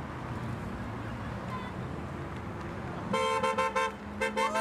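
A car horn honks in short repeated blasts, loud and near, over a rumbling background of engines and street noise at a tuned-car gathering.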